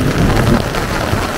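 Heavy rain pours down in a dense, loud, continuous wash, with a low rumble beneath the steady hiss and no voices.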